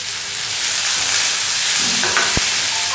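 Tomato and ginger paste sautéing in a pan, with a steady bright sizzle and hiss, a faint scrape of stirring and one sharp tap near the end.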